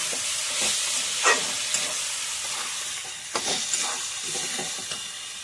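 Eggplant frying in a pan for an egg and eggplant dish gives a close, steady sizzle, broken by a few sharp clinks and scrapes of stirring.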